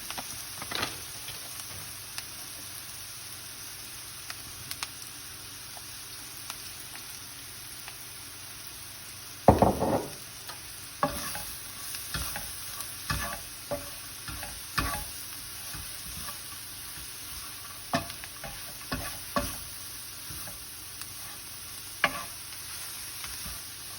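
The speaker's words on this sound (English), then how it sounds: "Next, add in your favorite plant-based crumbles and stir those in." Plant-based crumbles being stirred into a frying pepper mixture for vegan smoky stuffed peppers, a steady soft sizzle under scattered scraping stirs that grow more frequent in the second half, close and moderately quiet, with no talking.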